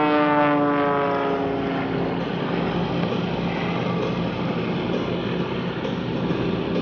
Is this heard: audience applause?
no